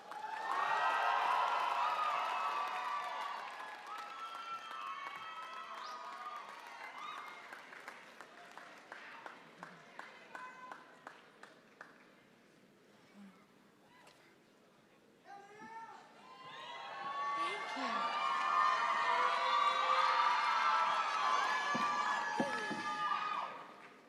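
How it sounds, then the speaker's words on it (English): Applause and cheers rise at a Black graduation celebration as graduates approach the stage, swelling in two loud bursts separated by a quieter stretch of scattered clapping, with crowd chatter and children's voices mixed in. "Please give them a round of applause as they approach the stage"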